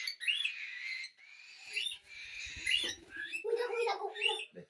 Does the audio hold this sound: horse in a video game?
no